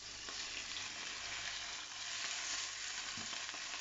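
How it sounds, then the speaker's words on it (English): Steak searing in a frying pan with thyme, giving a steady, dense sizzle and crackle that runs unbroken throughout, close and fairly loud with no talking. "So you basically want to sear it."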